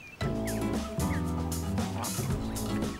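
Six-week-old goslings give short honking, gobbling calls at close range, several overlapping in a dense burst that fills most of the three seconds.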